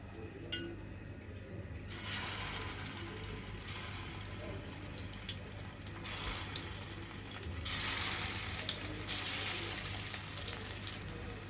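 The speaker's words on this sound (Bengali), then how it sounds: "এখন তেলটা গরম হয়ে গিয়েছে এখন আমরা কুর্তাগুলো দিয়ে দিব" Fish kofta balls fry in hot oil in a pan, a continuous sizzling hiss that grows louder in bursts as the pieces go in, with occasional soft clinks.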